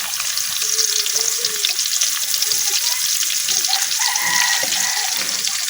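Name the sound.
chopped onions sizzling as they fry in oil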